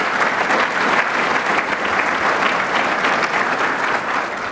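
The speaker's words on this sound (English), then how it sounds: "Maybe we can give them a round of applause." Audience applause for the mayors at an Entrepreneur of the Year awards event, a loud, dense, steady round of clapping from a large room sustained throughout.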